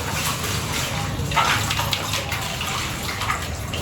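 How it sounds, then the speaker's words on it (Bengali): Two ingredients being washed under running water in a home kitchen before soaking, a continuous broad splashing rush from a tap with light swishing, close and fairly loud throughout. "এই দুটোকে ভালো করে ধুয়ে আমি ভিজতে দেবো"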